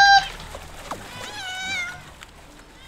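A cat in the video game River Tails gives a short, clear meow near the start, followed by softer game sound effects and light background music.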